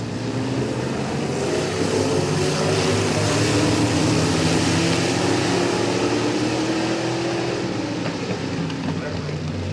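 Race cars roaring around the Midvale Speedway oval during a modified heat race, a loud, continuous engine drone with rising and falling pitch as the cars pass, heard under a commentator's voice.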